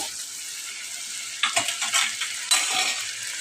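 Small sarpunti fish are laid one by one into hot oil, setting off a loud, steady sizzle. Sharper bursts of crackling flare with each piece, along with light scraping from a utensil.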